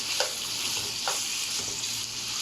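Mutton frying in hot oil in a karahi gives a steady, moderately loud sizzle with a few soft bumps of stirring, no one speaking.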